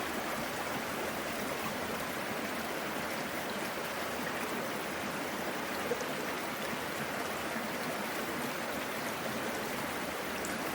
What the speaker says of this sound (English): looking at the water melting underneath the ice